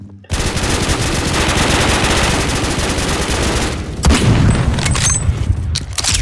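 Rapid automatic gunfire in the online shooter game Phantom Forces, a loud dense stream of shots lasting several seconds, followed by a few scattered bangs and mechanical clicks.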